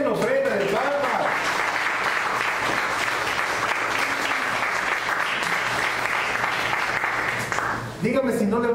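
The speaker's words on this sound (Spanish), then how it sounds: "Denle una ofrenda de palmas" Church congregation giving a loud round of applause, dense sustained clapping for several seconds with a voice speaking briefly at the start and again at the end.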